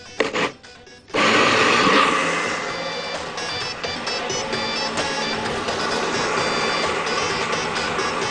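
A blender whirs loudly after a few short bursts, settling into a steady high-pitched motor drone that keeps running.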